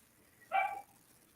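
A single short dog bark rings out once, moderately loud against a quiet background, then fades.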